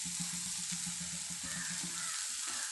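Soybean roast being stirred in a frying pan, a steady bright sizzle with soft rhythmic scraping strokes of the spoon running underneath, close and continuous with no talking.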